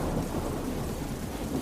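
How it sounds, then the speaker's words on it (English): Thunderstorm sound effect of heavy rain pouring down with deep rumbling thunder, a dense, loud, continuous roar with no pauses and no voices. "the rain fell upon the earth 40 days and 40 nights"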